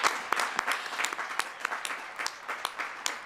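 College commencement audience applauding, a continuous spread of many hands clapping at a steady level, with a few sharper claps standing out.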